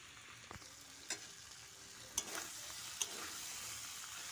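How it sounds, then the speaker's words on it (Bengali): Chicken curry masala sizzles steadily in the pan while a spoon is stirred through it now and then, leaving a few sharp knocks and scrapes over the constant hiss of frying, close and fairly quiet. "তো ভালো করে নেড়ে নেড়ে কষতে হবে"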